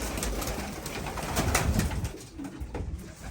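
Homing pigeons coo softly and steadily in a loft against a constant broadband hiss, with no voices, the calls low and murmuring throughout.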